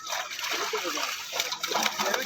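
Catla fish are let go into water, making a continuous, busy splashing and sloshing close by.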